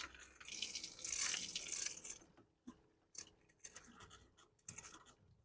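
Water spurting and dripping from a Winnebago Solis RV cold water line during winterizing, a hissy splashing burst for about two seconds followed by scattered drips and clicks, close and fairly quiet.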